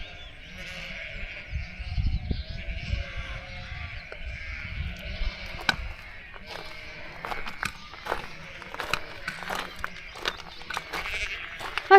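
Sheep on a Cumbrian fell path bleat repeatedly, some near and some farther off, over soft footsteps and faint breathy sounds, with a walker's quiet presence but no clear speech.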